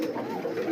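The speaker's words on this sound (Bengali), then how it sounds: "নর কিন্তু ডাকতেছে, মাদি কিন্তু ছটফট করতেছে" A male Raj Koka pigeon gives a single short, deep cooing call, close and fairly soft, in a pigeon loft.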